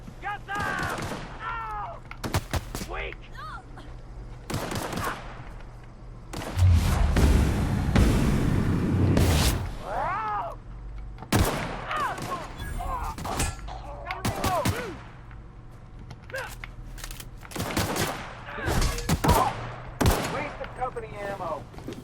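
Player's gun in The Outer Worlds firing in rapid bursts, with a loud sustained volley near the middle and scattered shots later, under someone talking.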